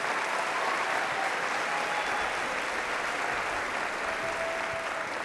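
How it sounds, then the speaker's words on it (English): Steady, sustained applause from a large audience honoring teachers at the McAllen ISD fourth grade choral festival, a dense even clapping that fills the whole stretch without pause. "round of applause for our teachers"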